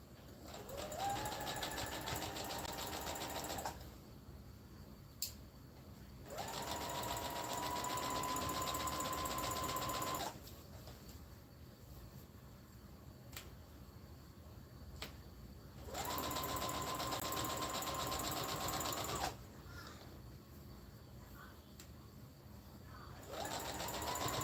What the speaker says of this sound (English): Then I back stitch once I get to the end of that one, and that has basically closed up the scarf.